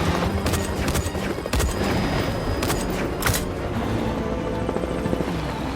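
Bursts of gunfire come from a helicopter during a chase in an action film. Sharp, loud cracks break over a constant rumbling roar, and the shots cluster in the first half before the noise settles into a steady din.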